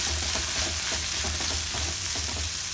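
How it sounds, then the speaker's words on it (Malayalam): Sliced onions with garlic and salt being sautéed in a pan for chutney, a steady close sizzle with rhythmic stirring scrapes throughout and no talking. "അതിലേക്ക് 2 സവാള മുറിച്ചത് ഇട്ട് കൊടുക്കാം. പിന്നെ 2 അല്ലി വെളുത്തുള്ളി, 1/4 ടീസ്പൂണ് ഉപ്പ് ചേർത്ത് കൊടുത്തിട്ട് നമുക്കൊന്ന് വഴറ്റിയെടുക്കാം"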